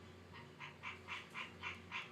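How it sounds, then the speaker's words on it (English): Frogs chirp at dusk in a steady series of about seven evenly spaced calls, moderately distant and faint over a low background hum. "The frogs always chirp around this time of night when it gets this little dusk dark."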